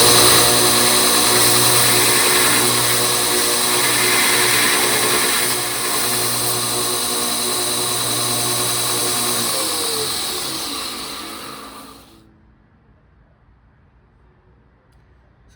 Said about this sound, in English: now let's grind it